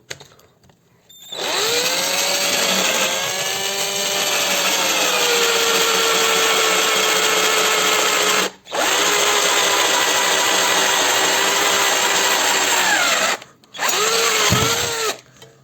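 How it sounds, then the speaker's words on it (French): Cordless power drill boring small holes into an aluminium bike frame, a loud steady whine with falling pitch under load, broken by two short pauses, no talk. "on a fait des petits trous, on a gagné 3 grammes"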